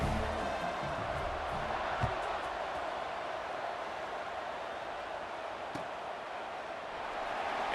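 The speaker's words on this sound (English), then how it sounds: "this crowd is feeling themselves after that last drive" A stadium crowd at a USC Trojans football game against the Hoosiers keeps up a steady, distant roar of cheering, with faint scattered shouts and noise over the broad wash.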